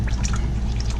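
Water sloshing and trickling inside a trumpet as soap is rinsed out, a short close burst of liquid gurgling and dripping.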